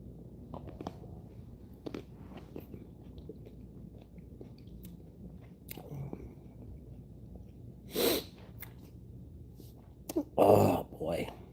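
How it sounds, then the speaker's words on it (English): A single sharp sneeze bursts out near the close, preceded by a quieter snort, amid low breathing, small mouth noises and a faint background hum. "Where did that sneeze come from?"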